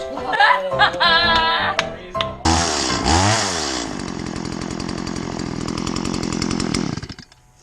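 A chainsaw revs up loudly, its high buzzing whine rising and holding steady for several seconds before cutting off; brief voices come just before it starts.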